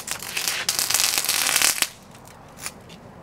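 A 12V 100Ah LiFePO4 lithium iron phosphate battery is short-circuited with 8 AWG wire, making a loud, harsh crackling burst of sparks that lasts over a second and then drops to faint after-crackles. No speech is heard.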